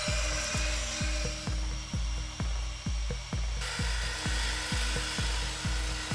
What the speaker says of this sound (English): back to the grinder.